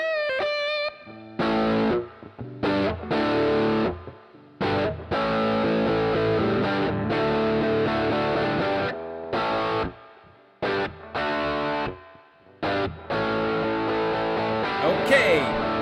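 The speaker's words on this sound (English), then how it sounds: "Overscream. This is obviously modeled after a Ibanez TS-808 or a TS9 tube screamer" Electric guitar through an Overscream overdrive pedal modeled on the Ibanez TS-808 Tube Screamer, playing loud driven chords and riffs in bursts separated by brief pauses.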